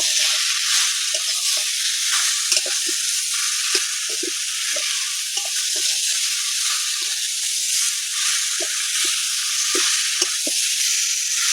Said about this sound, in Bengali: সব কিছু একসাথে ভালো করে কষিয়ে নিয়েছি